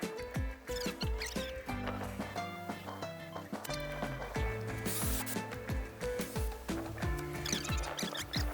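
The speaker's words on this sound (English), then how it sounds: "now we get to pull out the bolt extractors and try to extract those bolts." Stuck bolts being worked out of a scooter frame with bolt extractors, heard as a close series of metallic clicks, ratcheting and clanks in an irregular rhythm, with no talk.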